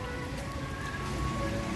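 A small water fountain at an outdoor restaurant splashes in a steady, even wash of water noise, with faint voices underneath.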